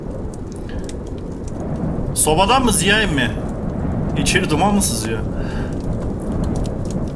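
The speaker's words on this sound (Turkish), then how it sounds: "Ya şu anda fırtına başladı." A thunderstorm with rain in a Turkish survival video game set in Erzurum, heard as a steady, dense hiss of rainfall throughout while someone speaks over it.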